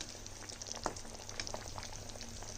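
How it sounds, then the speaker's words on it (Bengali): Stuffed pointed gourds simmering in gravy in a pan, a steady soft bubbling and faint sizzle close by, with a few brief louder pops over a low continuous hiss. "এবারে এগুলো আর 1-2 মিনিট মতন একটু ঝোলে ফুটে উঠুক"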